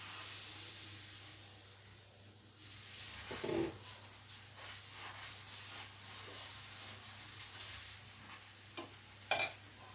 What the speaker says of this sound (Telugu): ఇంకా దోశ అయితే వేస్తున్నానండి పిల్లలకి.